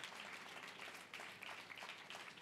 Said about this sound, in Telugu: సాధ్యమైన నమ్మిన వారు గట్టిగా చప్పట్లు కొట్టేసి స్తోత్రం చేయాలి